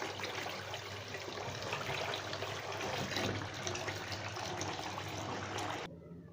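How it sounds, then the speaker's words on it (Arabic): Rice is washed and rubbed by hand in water, a continuous soft, close splashing and trickling with a faint running-tap quality, steady throughout before quieting at the end. "نفس الرز هفضل اغسل فيه وادعك فيه لحد ما يطلع ابيض."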